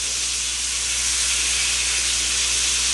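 Duck breast flipped over and searing in butter in a hot skillet gives a steady, loud, close, broadband sizzle and hiss that holds evenly throughout.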